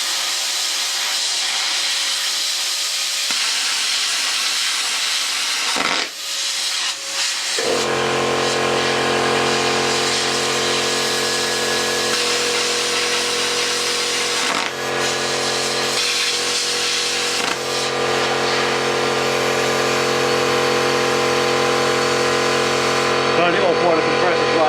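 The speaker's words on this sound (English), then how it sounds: "Yeah, I stopped while the compressor was going. It's noisy as hell that is" An air compressor runs loudly during plasma cutting, a steady droning motor hum with hiss that kicks in partway through and continues to the end, with a voice speaking over it at times.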